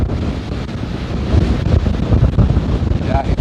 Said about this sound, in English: It is really cold and really windy out here.